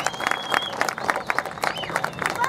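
Crowd applause at an outdoor Mahishasur effigy burning festival event in Kopargaon, dense steady clapping from many people with bursts of cheering throughout.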